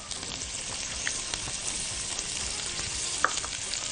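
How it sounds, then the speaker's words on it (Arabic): Sliced onion and minced garlic fry in hot oil for mushroom stroganoff, giving a steady close sizzle with faint clinks as they are stirred. "نزلنا فيهم ببصلاية متقطعة شرايح بالشكل ده، وبدأنا ان احنا نقلبها على النار علشان تدبل"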